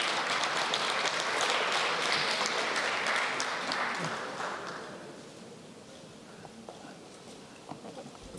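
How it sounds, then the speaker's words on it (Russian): An audience at an award ceremony for business support claps in a full round of applause that gradually thins and fades into scattered claps, with faint voices in the room. "Аплодисменты."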